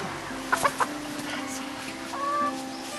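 A black hen gives a few short, close clucks in a quick cluster, then the yard falls quieter with faint background noise.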